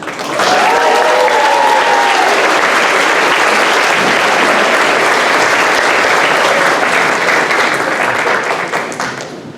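Loud, sustained applause fills a 5th grade graduation ceremony at Lopez Elementary, many hands clapping close and steady for nearly ten seconds, with a brief whistle near the start.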